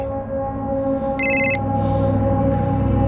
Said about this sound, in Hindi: अरे बशीर क्यों फोन कर रहा है अभी?